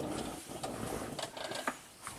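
A wrench turns a HEMI engine by hand in its direction of rotation during a P0016 low-power diagnosis, giving faint ratcheting clicks and mechanical ticking over a steady background hiss in a workshop.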